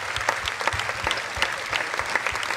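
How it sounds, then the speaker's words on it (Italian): Audience applause at a dance academy's final show, dense continuous clapping from a large crowd, moderately loud and even throughout. "applauso grande e soprattutto per loro"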